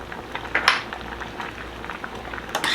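Onions with flour and sugar being stirred in a pan, giving a faint bubbling simmer under a few light scraping clinks of a utensil against the pan.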